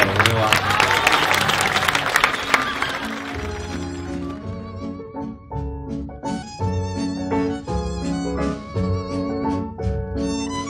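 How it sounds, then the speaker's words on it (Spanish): Congregation applauding the newlyweds at a church wedding, loud dense clapping for about three seconds that fades as music with sustained tones and a steady beat takes over. "Un aplauso para la nueva."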